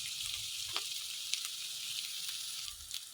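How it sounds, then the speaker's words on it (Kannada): Vegetables sizzle and fry steadily in a pan while cooking vegetable Maggi noodles, a continuous close hiss with occasional stirring scrapes and no talking. "ಈ ರೀತಿ ಚೆನ್ನಾಗಿ ಫ್ರೈ ಮಾಡ್ಕೊಳ್ಳೋಣ ಸರ್."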